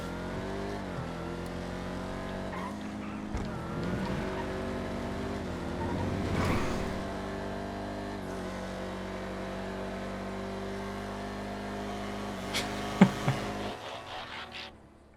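A Voodoo muscle car racing in the GTA V FiveM video game, its engine droning steadily with gear-shift dips and rising revs, a sharp clunk near the end, no talk.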